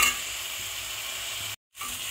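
Spice paste with ground spices, including Kashmiri red chili powder, sizzles and fries steadily in hot oil for an egg curry, a continuous close crackle that cuts out briefly near the end before resuming.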